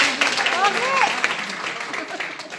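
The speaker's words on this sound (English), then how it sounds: "please give yourself a round of applause for coming here today" Round of applause from an audience at a Riway Philippines leaders' sharing event, brief clapping mixed with crowd noise and a voice, fading toward the end.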